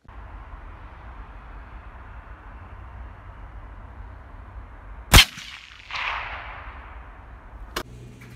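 A single gunshot at night from a rifle fitted with a YHM Phantom flash hider, a sharp loud crack followed about a second later by a softer rushing burst and a faint click near the end, over steady background hiss.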